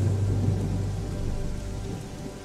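Heavy rain pours down in a dense, steady roar with deep thunder rumbling low beneath it, filling the whole stretch with no voices.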